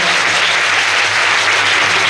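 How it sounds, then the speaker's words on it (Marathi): A congregation at a Sunday prayer meeting claps loudly and steadily, a thick continuous wall of applause with no break and no voices over it. "जोरात टाळी वाजवून प्रभूचं स्वागत करा"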